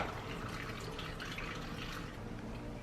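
Water running from an opened faucet in a home in Mexico, a steady broadband rushing hiss that stays constant throughout, fairly close with no talking.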